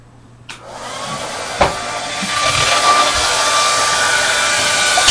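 A hair dryer switches on and runs as a steady, loud, close whooshing hiss, with a couple of bumps and knocks early on as something is being dried.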